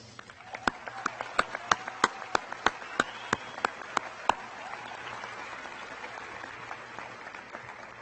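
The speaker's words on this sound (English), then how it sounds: "these family members, mentors, and supporters deserve a loud applause from you" Applause at the Joel E. Ferris High School 2019 graduation for family members, mentors and supporters: a few sharp, close claps at a steady beat over a wide, quieter crowd clapping that gradually thins out.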